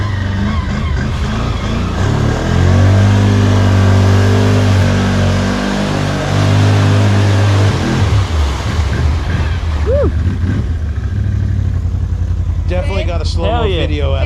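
A 2020 Can-Am Outlander 650 XMR ATV engine revs hard and loud while driving through mud, a deep rising drone that drops off partway, followed by people talking and exclaiming nearby.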